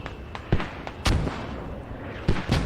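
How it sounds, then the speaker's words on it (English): Mortar fire in a multiplayer video game match, several sharp booming blasts spaced unevenly over a low battlefield rumble, some close and punchy, others more distant. "Mortars may be too loud"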